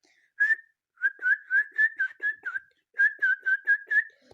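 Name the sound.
person whistling a melody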